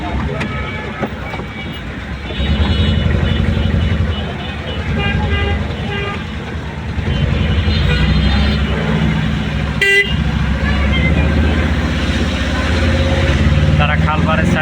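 Jammed traffic on Uttara Khalpar road, car and bus horns honking repeatedly over a dense engine rumble, loud and near, with voices talking throughout.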